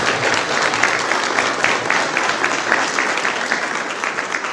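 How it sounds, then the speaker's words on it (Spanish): Warm welcoming applause from a church congregation, a dense, even wash of many hands clapping together, fairly loud and sustained. "le damos un fuerte aplauso de bienvenida"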